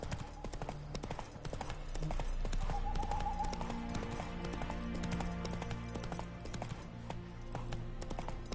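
Hooves of Roach, the horse in the video game The Witcher 3, clip-clop in a steady trotting rhythm, close and clear, with faint game ambience and a possible voice in the background.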